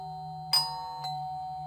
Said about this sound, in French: j'ai entendu une nouvelle fois la sonnette de ma porte